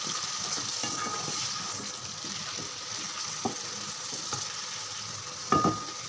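Boneless chicken cubes stir-fry in a hot pan, a steady close sizzle with soft scraping and stirring, plus a sharper knock of the utensil near the end.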